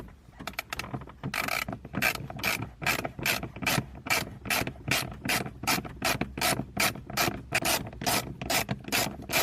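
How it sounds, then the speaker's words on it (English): Rapid, regular ratcheting clicks from a T15 Torx screwdriver backing a screw out of a speaker grill on a 1996 Chevy S-10, loud and close, running steadily throughout with no talking. "So we've got one original screw, the one I'm removing, and a Phillips over here."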